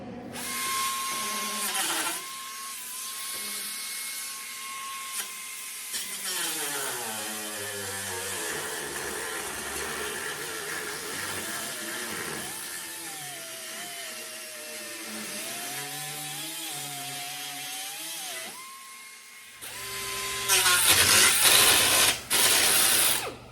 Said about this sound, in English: we got to get out my little angle grinder and cut and butt that in this angle.